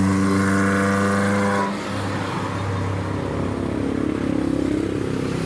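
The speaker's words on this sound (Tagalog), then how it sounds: "Maluwag po ang daloy ng trapiko ngayon dito." Evening road traffic in Lipa, Batangas: a loud engine drone with a steady tonal hum passes close, then gives way to a rougher, lower rumble of further vehicles moving along the road.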